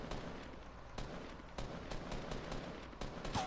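Minigun fire in a first-person shooter game, bursts of rapid gunfire heard at a distance and fairly quiet, several separate bursts with short gaps, no talk over them.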